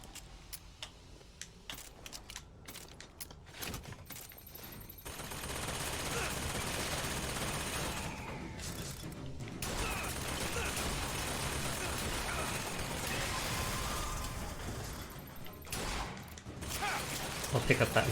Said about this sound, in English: Okay, so they've just got shotguns.